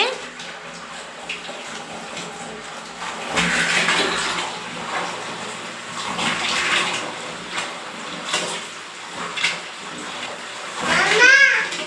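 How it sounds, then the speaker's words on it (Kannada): A small child is bathed, with water splashing and sloshing in a tub in irregular bursts, close by and moderately loud, mixed with a voice and an adult talking over it. "ವಿಭು ಸ್ನಾನ ಮಾಡೋದಂದ್ರೆ ಇಷ್ಟನಾ ನಿಮಗೆ?"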